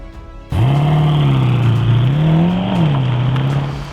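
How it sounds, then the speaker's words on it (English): A car engine cranks and catches abruptly after a moment of quiet, then settles into a steady, loud idle with a slight rise and dip in revs, the running hum continuing to the end. "And I will start the car again."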